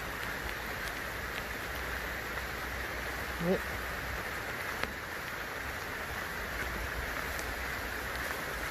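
Steady rain pours through a mountain forest beside a stream, a dense, even hiss filling the whole stretch, with a brief faint voice near the middle.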